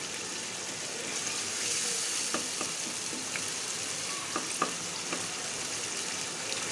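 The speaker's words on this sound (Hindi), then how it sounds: "अब इसे 5 से 10 मिनट तक हम इसको भूनेंगे" Minced keema meat fries in ghee with a steady, quiet sizzle, broken by a few soft clicks and scrapes of stirring.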